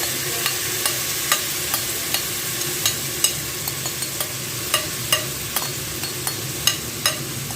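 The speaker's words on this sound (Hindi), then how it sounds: "अब मैं इसमें कीमा शामिल कर दूंगी जो हमने पपीता और लहसुन अदरक लगा के रखा था।" Minced meat marinated with papaya, garlic and ginger sizzles steadily in a hot pan for Bihari keema while a spoon stirs and taps against it at a regular pace, close up with no talking.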